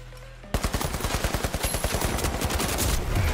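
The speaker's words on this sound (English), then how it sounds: "I'm getting shot at already." Rapid automatic gunfire in the video game THE FINALS, a steady burst of close, loud shots that starts abruptly after a quiet moment and runs continuously to the end.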